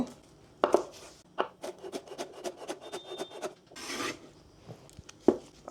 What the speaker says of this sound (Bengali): বরবটিটাও ছোট ছোট করে কেটে নেব